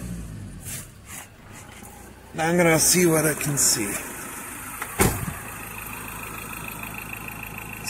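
A Ford Ranger 2.2 diesel engine with a misfire under load idles, then is given a quick snap of throttle that rises and falls, followed by more idling, while someone talks nearby.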